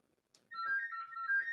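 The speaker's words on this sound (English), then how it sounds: "There's a phone going off." A phone ringtone goes off during a late-night phone-in talk show, a bright repeating electronic melody that starts after a brief click and keeps ringing steadily and fairly loud with no talk over it.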